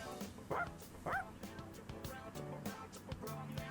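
Koromaru, the dog in the video game Persona 3, gives two short, clear yips or barks close together near the start, then softer whimpers and clicks over quiet game sounds.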